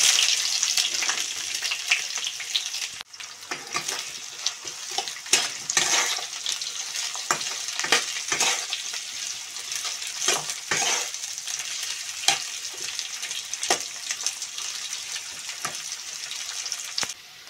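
Sliced onion dropped into hot oil already holding cumin, bay leaves, cardamom, cinnamon and cloves, sizzling loudly and steadily with repeated scraping stirs of a spatula, close by with no talk.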